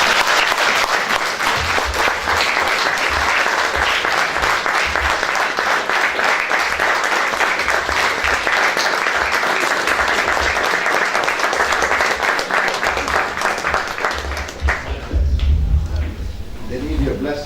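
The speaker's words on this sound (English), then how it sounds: "I request all of you to kindly give him a big round of applause." An audience at a legal studies seminar gives a long, dense round of applause, loud and continuous for the whole stretch, tapering slightly near the end with a few bumps and thuds underneath.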